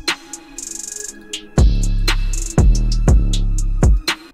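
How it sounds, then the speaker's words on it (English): A dark, bouncy trap-style beat: deep booming bass hits under ticking hi-hats, with an accent open hi-hat washing out in a long hiss soaked in reverb and delay. "I just added this open hat that's kind of like an accent. It just has a bunch of reverb and delay on it."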